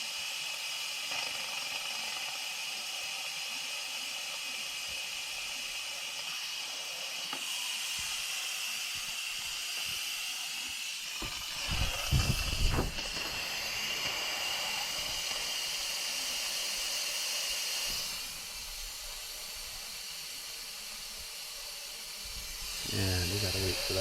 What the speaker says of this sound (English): Letting the pressure out, and we're going to check it.